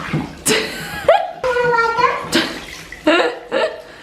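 Water from a bath tap runs onto a child's back in a tub, a steady splashing beneath bursts of a voice, laughter and adult speech throughout.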